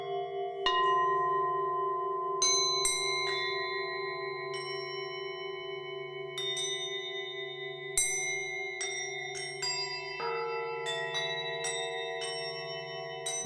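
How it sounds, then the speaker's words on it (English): Sixteen old bells played outdoors in an improvised chorus ring out in layered, overlapping strikes of different pitches, each long tone hanging and decaying as new clear hits land at irregular intervals. "you'll hear a lot of different tonalities because there are 16 bells in total being played"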